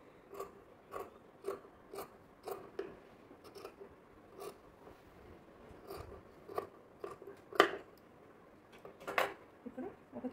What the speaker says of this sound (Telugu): ఇప్పుడు మార్క్ చేసుకునే విధంగా కట్ చేసేసుకోవాలి.